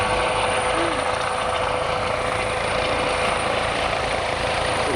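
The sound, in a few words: Eurocopter EC135 helicopter flying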